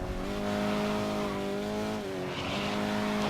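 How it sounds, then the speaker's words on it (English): A Porsche racing in GRID 2019, loud sustained tire squeal as it drifts through a turn, layered over a steady high-revving engine drone, close and continuous with no speech. "Just trying to drift around those turns, picking up as many points as I can"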